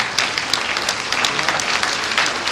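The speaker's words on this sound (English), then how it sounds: "Let's give her a very big round of applause." A crowd applauds at an induction ceremony, with loud, dense, sustained clapping from many hands that fills the hall throughout.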